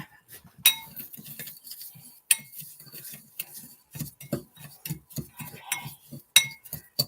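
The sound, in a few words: stirring food with a utensil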